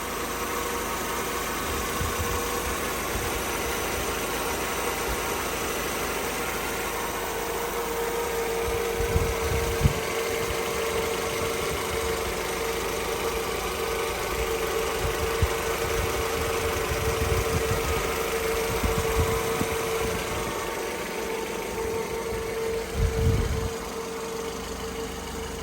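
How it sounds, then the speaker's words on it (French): A car engine idles quietly and evenly, a low steady hum with a faint tone, occasional soft knocks and bumps, no voices. "Là le moteur tourne. C'est hyper silencieux."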